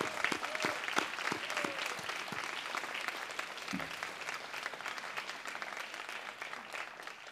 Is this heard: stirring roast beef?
no